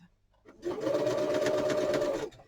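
A sewing machine runs a steady zigzag stitch while bunting flags are sewn, a close, continuous mechanical whir of about two seconds that starts and stops cleanly, with no talk over it.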